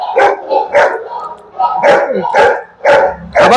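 Dog barking repeatedly and loudly close by, sharp barks in a steady rhythm about twice a second, at a place guarded by over thirty large dogs.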